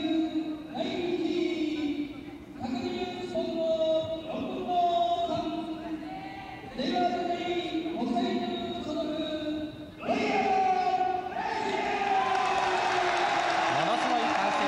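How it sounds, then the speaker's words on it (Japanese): A roaring arena crowd cheers loudly and steadily at a WBC world junior featherweight title boxing match, Wilfredo Gomez vs Royal Kobayashi, as the challenger is introduced, with a voice speaking over the din. "ものすごい歓声の中"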